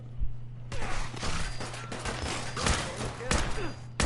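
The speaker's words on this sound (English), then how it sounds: "that is a missile launcher that almost directly hit me" Loud missile launcher explosion and surrounding gunfire in Fallout 4, a sudden heavy blast followed by rattling bursts and thumps over a steady low hum.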